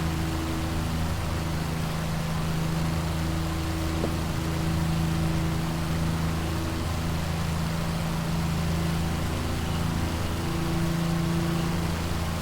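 A P-40 fighter's piston engine runs in a flight simulator game, giving a steady, unbroken droning hum with low tonal harmonics that holds the same pitch and loudness throughout, with no voices over it.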